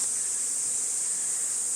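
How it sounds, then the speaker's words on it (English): Honey bees swarm over spilled honey at a hive in Japan, a steady close buzzing hum that holds without a break, alone and with no voices. "we've spilled a little bit of honey here, but these ladies are working diligently to clean it up"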